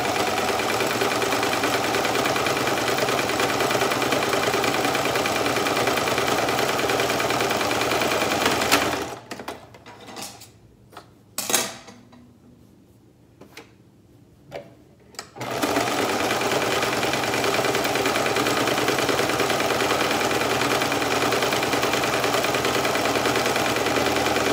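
A sewing machine runs steadily as it back stitches a handmade fabric mask, a dense continuous whir that stops briefly midway, leaving a few quiet handling noises, before resuming at the same steady pace.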